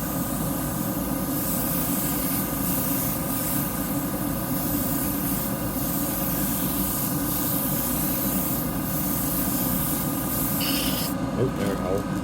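Airbrush spraying paint onto a fan cap, a steady continuous hiss of compressed air and paint held throughout, with a faint mechanical hum underneath and no voices.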